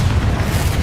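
A Confringo fire spell blast in the Hogwarts Legacy video game, heard as a loud, deep, rumbling boom that stays heavy through its short length, with low thumping pulses underneath.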